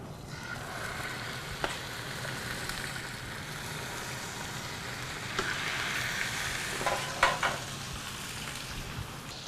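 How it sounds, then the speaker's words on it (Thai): Steady broadband sizzling of chicken pieces searing in hot oil until browned on both sides, continuous crackle throughout with a few sharper spits and pops near the end; no talking. "น้ำมันร้อนดีก่อนก่อนที่จะนำไก่ลงไปจี่ให้สีสวยทั้งสองด้านครับ"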